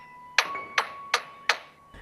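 A lyrebird mimics a hammer driving a nail at a construction site in a zoo: four sharp, evenly spaced knocks about a third of a second apart, close and clear, with a faint tonal hum underneath and no talk.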